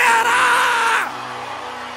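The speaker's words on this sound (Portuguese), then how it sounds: "Sai dessa cadeira e dá um grito aí, Videira." A church congregation shouts together in a loud, sustained roar of many voices, which drops off after about a second into a quieter crowd murmur.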